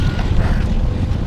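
Strong headwind roaring across a cyclist's microphone on a day of long-distance riding, a steady loud low-frequency buffeting that fills the whole clip with no voice.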